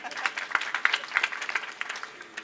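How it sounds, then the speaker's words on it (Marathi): Scattered, fairly light hand clapping from a seated gathering at a kirtan, irregular claps of moderate loudness spread across the moment with no steady rhythm. "टाळी तर जोरात वाजवा"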